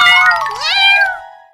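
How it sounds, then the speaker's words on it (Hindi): A cartoon kitten gives a single high, bright meow that rises and bends in pitch, clear and close, then trails off quickly with no talking around it. "रिंकू ये देख कितने सारे बिल्ली के बच्चे"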